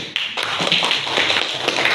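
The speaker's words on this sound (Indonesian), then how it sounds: "Tepuk tangan." Classroom applause, many hands clapping together in a dense, steady patter that starts abruptly and continues at an even level throughout.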